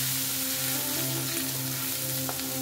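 Green chili sautéing in a pan gives a continuous close sizzle with a steady low hum underneath and a faint tap near the end.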